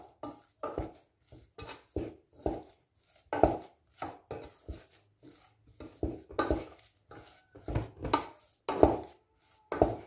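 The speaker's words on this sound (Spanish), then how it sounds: "Y ahora lo mezclaré bien." Chopped scallions stirred into a cheese mixture for a small Cabrales cheese soufflé, repeated scraping and tapping strokes of a utensil in a bowl in a steady rhythm, close and quiet.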